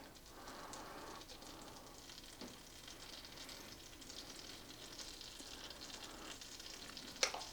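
Protein pancake batter sizzling and frying in a hot pan, a steady crackling hiss throughout with a brief sharp clink near the end.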